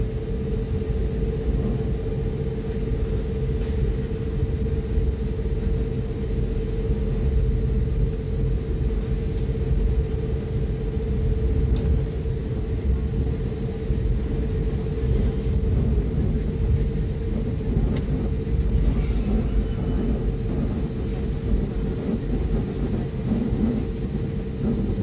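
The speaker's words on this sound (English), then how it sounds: "We're about to take off, guys." An airliner on runway 53 during the takeoff roll, a steady heavy engine rumble and drone with a constant tone that holds throughout, heard from inside the cabin with no talking.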